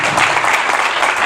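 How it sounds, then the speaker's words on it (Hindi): A church congregation claps together in a sustained burst of dense, steady applause filling the room, with no voices over it. "एक सुंदर ताली बजाएंगे प्रभु यीशु मसीह के नाम से।"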